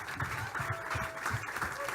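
Steady applause from a live pitch-event audience, many hands clapping in a dense, even patter that holds at a moderate level throughout.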